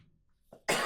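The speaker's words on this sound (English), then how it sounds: "I've been coughing all weekend" A single sharp cough bursts out close and loud, preceded by a faint breath or throat sound, with no talk around it.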